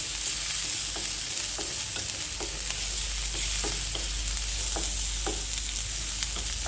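Onion and garlic frying in mustard oil for a bottle gourd leaf dish, a steady broadband sizzle with regular soft spatula stirs scraping the pan every half second or so, close and continuous with no voices.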